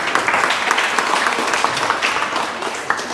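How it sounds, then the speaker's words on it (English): School children at an MG Global school event, part of an international collaborative activity with a UAE school, break into dense, steady applause. The clapping sounds close and loud and fills the whole stretch without pause. "So clap for yourself"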